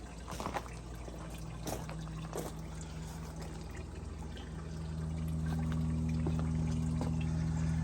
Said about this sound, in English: still draining coolant